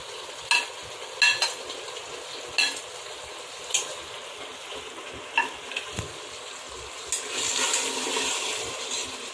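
Tomatoes and green chillies go into a pan of frying mutton, giving a soft steady sizzle with several sharp clinks and scrapes of a stirring utensil against the pot, and the hiss rising toward the end.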